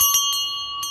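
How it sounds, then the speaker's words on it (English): A hand-rung air raid and gas attack warning bell at an RAF Hooton Park wartime reenactment clangs in quick close strikes, each with a ringing metallic tone that hangs in the air between hits. "Another way of warning the population that there's an imminent attack or a gas attack is the bell."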